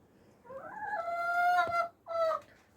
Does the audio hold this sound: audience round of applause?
no